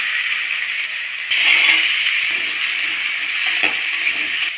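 Potatoes tipped into hot mustard oil with panch phoron set off a loud, dense, steady sizzle close by, with a brief surge as they hit the pan and a few light stirring scrapes.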